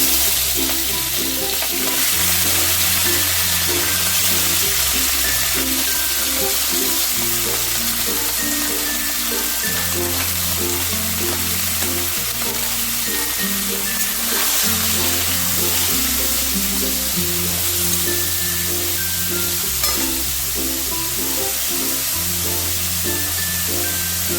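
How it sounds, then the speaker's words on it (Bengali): Prawns dropped into hot oil for a light fry, giving a steady loud sizzle with stirring noises and faint clinks from the pan throughout, no talking. "তেলটা গরম হয়ে গেছে এবারে আমি চিংড়িগুলোকে দিয়ে দিচ্ছি"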